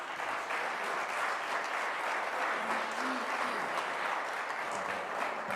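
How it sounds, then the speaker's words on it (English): Audience clapping hands at a constitution anniversary celebration, a sustained even patter of many hands with a faint voice briefly rising beneath. "that clap of hands is indeed befitting"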